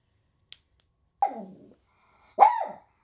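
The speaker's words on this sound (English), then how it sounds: "Why are you barking?" Indoors, a dog gives two separate barks about a second apart, each falling off into a short whine-like tail, after a faint click; no one speaks.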